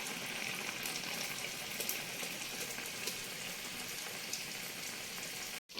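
Steady, dense crackling sizzle of urad dal vada frying in hot oil, constant and moderately loud with no voices, cutting out briefly at the end.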